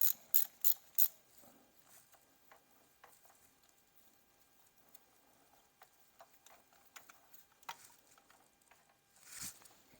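Ratchet working a spark plug loose on an NA6 Miata, starting with four loud clicks in quick succession, then sparse faint ticks and scrapes spread across a quiet stretch and ending with a louder scuff.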